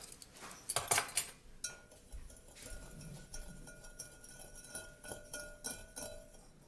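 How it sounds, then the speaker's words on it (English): Sugar and cream of tartar mixed in a bowl, a series of close, bright clinks and scrapes of a utensil against the bowl in irregular bursts, with quieter stirring between. "mix together 1/2 cup of sugar plus 2 tablespoons and 1/4 teaspoon of cream of tartar"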